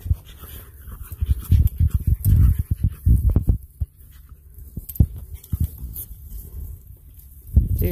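A dog pants close by on a forest trail along the Appalachian Trail, with quick uneven bursts of breath and rustling that come and go over several seconds, with no talk.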